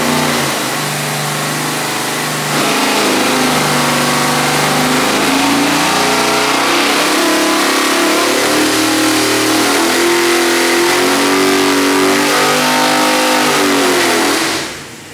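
A 441 cubic inch LS3 V8 pulls to 6,000 RPM on a dyno, climbing from a loud idle into a long, rising, full-throttle roar that holds near the top before cutting off, with no voices.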